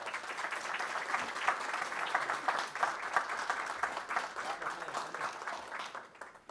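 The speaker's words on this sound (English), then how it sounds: "Big round of applause." Sustained audience applause at a board meeting, steady dense clapping from a crowd that carries evenly for several seconds before tapering off at the end.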